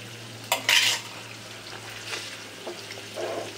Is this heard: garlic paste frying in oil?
yes